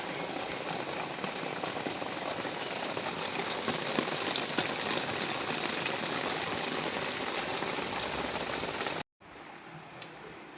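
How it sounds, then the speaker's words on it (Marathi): Rain falls steadily in a constant, even hiss of drops for several seconds, then cuts off abruptly into near quiet with a faint tap. "सगळीकडे पाऊस पाऊस पाऊस झाला"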